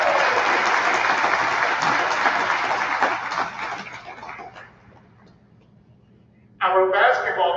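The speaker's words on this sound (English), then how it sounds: "Let's give our football team a big round of applause." An audience applauds the football team at an athletic awards program, sustained clapping that gradually fades out, followed by a speaker's voice starting up at the end.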